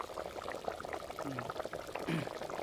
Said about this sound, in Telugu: ఇదిగోనండి ఇలాగ కూర ఉడుకుతుంది ఇలాగా